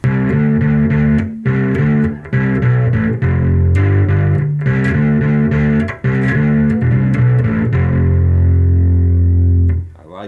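An electric bass plays a riff through a TightDrive overdrive pedal set with the gain about halfway up, giving loud, gritty, sustained notes with brief pauses between phrases.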